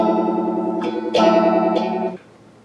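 An electric guitar runs through an MXR Phase 95 phaser pedal, sustained chords swirling with a sweeping, synthetic phase shift and a couple of fresh strums before it cuts off; loud and close with no talking.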